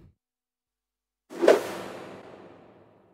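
After a brief silence, a single video game swooshing whoosh sweeps in sharply, then fades out slowly in a long, smooth plate-reverb tail.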